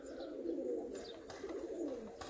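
Pigeons coo outdoors in a soft, rolling series of low calls, with a few faint higher chirps from other birds scattered through the steady ambient background, and nobody speaks.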